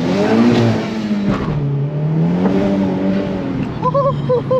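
A turbocharged 2020 Honda Civic Type R accelerates hard, its engine note rising, dropping at a shift and climbing again, loud and close from inside the car, with a voice briefly heard over it.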